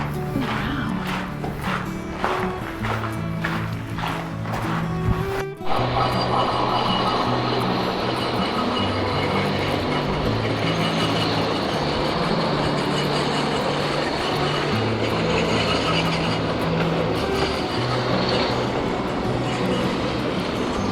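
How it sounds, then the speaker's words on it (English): A small railway car near Westcliffe, Colorado rumbles past with a steady mechanical drone and clatter, fairly close, a sharp knock partway through, then a continuous rolling noise. "Don't know what that little railway car is, but kind of cool."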